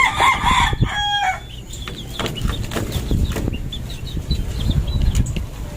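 Gamefowl chickens cluck in short bursts and beat their wings in quick flapping rushes, with a brief crow early on, all fairly close in a busy, noisy yard.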